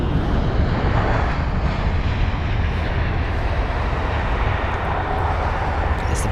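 British Airways Boeing 787 Dreamliner airliner at London Heathrow, a loud steady jet engine roar with broad rumble holding evenly throughout, no talking.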